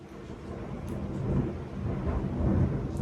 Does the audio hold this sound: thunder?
yes